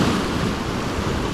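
Sea waves wash and splash onto a sandy Norfolk beach during a bass fishing session. It is a steady, loud, broadband roar close to the microphone, with no voices.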